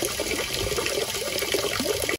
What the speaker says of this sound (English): once you've filled a bucket up with water